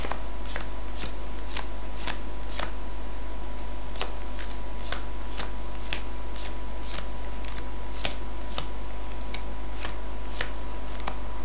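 Playing cards are dealt one at a time onto piles on a table, each landing as a crisp, close snap in a steady, fairly quick rhythm over a quiet background, with no voices.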